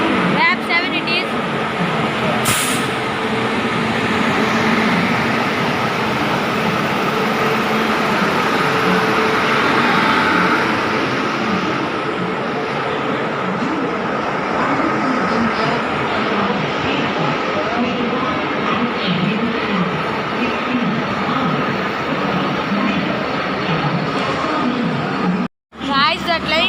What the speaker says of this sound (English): Guys, the train is coming.